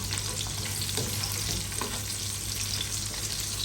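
Onions sauté in hot oil for beef sinigang, making a loud, continuous close-up sizzle with faint stirring taps underneath.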